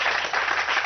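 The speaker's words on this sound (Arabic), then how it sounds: "يلا تصفيق شباب" Audience at an Iraqi comedian's live show clapping, a dense, steady wash of many hands filling the short moment without a pause.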